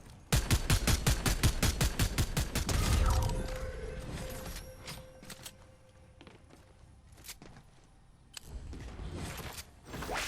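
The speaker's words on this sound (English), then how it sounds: "But I just heard shots over there." Gunfire in a Fortnite Zero Build match: a rapid, loud burst of evenly spaced shots for about three seconds, then quieter scattered clicks and shots with a final flurry near the end.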